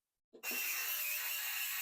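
A record cleaning machine switches on after a brief click, then settles into a loud, steady mechanical whir that holds without a break.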